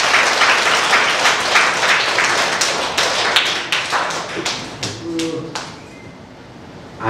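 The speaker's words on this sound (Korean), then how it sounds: "박수 부탁드리겠습니다" A healing camp audience bursts into loud, dense applause to welcome a speaker to the lecture, and the clapping gradually thins into a few distinct, separate claps before fading away.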